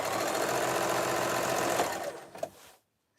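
A sewing machine runs steadily at speed while stitching a jelly roll fabric rug, a close continuous whirring hum that slows and stops near the end, then silence.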